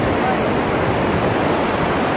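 Curug Cihear, a waterfall in Lebak, Banten, roars with a steady, dense rush of falling water, close and loud, unbroken from start to finish.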